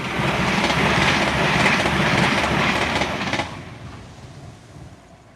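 A TransPennine Class 802 train runs along the rails with a loud, steady rumble and rhythmic clatter from inside a carriage. The noise eases to a softer, quieter run after a few seconds.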